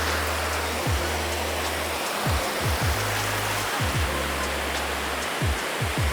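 Wading into shallow sea water at a beach on a pleasant day: steady broadband wash of surf and splashing water fills the whole stretch, with low thumps and sloshes as legs push through, close and continuous.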